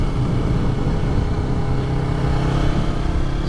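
A Yamaha R3 motorcycle's engine drones loudly and steadily while riding, a constant close-up hum with faint rumble and no clear revving swells.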